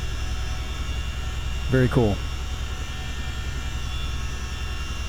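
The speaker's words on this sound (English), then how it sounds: "You can hear those engines just so loud. If I turn them down too much more, I couldn't hear the rotors up on top" CH-47D Chinook helicopter in Microsoft Flight Simulator, a steady loud droning engine and rotor hum filling the whole clip, with a person briefly speaking over it.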